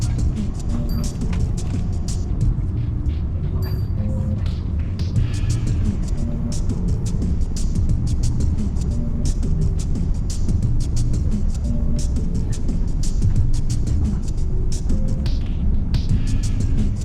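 Continuous low rumble and hum of a passenger train running, heard from inside a carriage of a ten-car train, steady throughout with a few faint tonal squeals and announcements over the drone.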